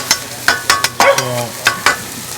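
Chicken sizzling on a flat-top griddle while being cooked for chicken Marsala, with repeated sharp scraping and tapping of a spatula in an irregular rhythm over a close, steady fry.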